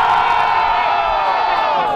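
A crowd cheers and shouts loudly and steadily at a freestyle rap battle in Brazil, a dense roar with whoops that holds without a break.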